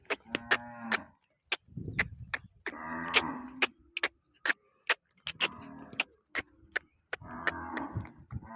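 Desi cows on a farm give several long, loud moos one after another, with sharp ticking clicks scattered between the calls.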